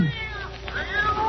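A black cat in a horror audio drama gives a short, clear meow, close and alone over a quiet background.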